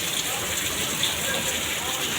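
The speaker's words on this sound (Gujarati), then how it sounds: "તમે જોઈ શકો વરસાદ" Heavy rain falls outside in a continuous, even, close rushing hiss with no pauses, steady and fairly loud from start to finish.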